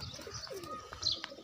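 Soft pigeon cooing close by, a few low throaty coos mixed with light chirps over quiet background.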